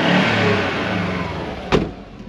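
A 1997 Subaru WRX turbo AWD engine revs up close, a steady loud mid-pitched drone with a short sharp blip of throttle near the end, then settling back to idle.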